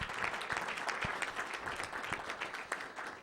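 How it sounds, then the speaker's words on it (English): An audience at a political breakfast event applauding, a steady wash of many hands clapping at moderate distance, fairly quiet and continuous with a few sharper individual claps. "So if you could give those guys a round of applause"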